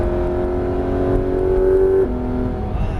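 A Porsche 991 GT3 RS accelerates hard on the Alès race circuit, its engine a loud, steady high-pitched wail that climbs in pitch, then drops sharply at an upshift and keeps pulling close up, with no talk.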